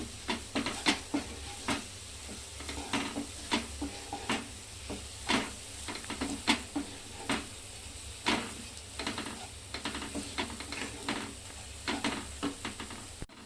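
Paneer masala being sautéed in a pan: a spatula scrapes and taps in a steady stirring rhythm over a soft, continuous sizzle, close and moderately quiet.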